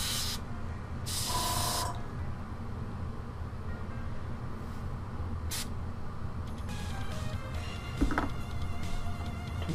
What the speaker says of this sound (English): Hopefully I'll get through this boring part with the airbrush